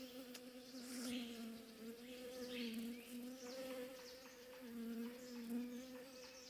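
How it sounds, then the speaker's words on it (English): A bee buzzes steadily and close by, its drone rising and falling slightly in pitch throughout with no pause, set against faint background ambience. "It was only a bee."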